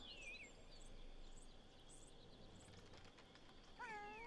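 Cat meowing in the video game Pentiment, with a couple of clear, close meows near the start and again at the end over a steady bed of ambient background noise.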